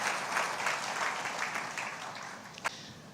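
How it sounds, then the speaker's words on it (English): Applause from a debate audience for a speaker at a grand finale event, a steady wash of clapping that fades slightly toward the end, with one sharp louder clap near the close. "Can we give her a round of applause?"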